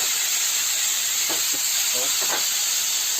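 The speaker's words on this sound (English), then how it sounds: "We'll put this now on the frying pan." Marinated chicken breast seasoned with ginger garlic paste, turmeric and chicken masala sizzles in a frying pan, a steady loud hiss with faint clinks and a few brief sounds under it.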